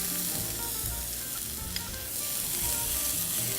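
Red onions sautéing in a hot pan give a steady, close sizzle with faint stirring scrapes, no voices over it.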